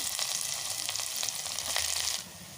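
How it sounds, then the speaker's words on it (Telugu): Chopped onion hits hot oil already crackling with cumin and mustard seeds for a vegetable sambar, giving a loud, steady broadband sizzle with a few sharper pops, alone with no talk, easing slightly near the end. "జీలకర్ర ఆవాలు యాడ్ చేసుకొని ఇలా వేడైన తర్వాత అయితే ఇందులోకి ఆనియన్ అయితే తీసుకోవాలి"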